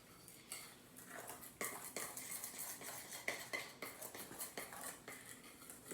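Cookie batter whisked quickly in a bowl, with rapid, uneven clinks and scrapes of metal against the bowl following close together, fairly quiet and up close.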